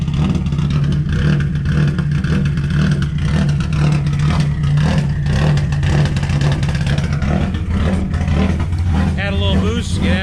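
A rally car's engine drones steadily on a night drive, then revs hard near the end. A voice talks over it.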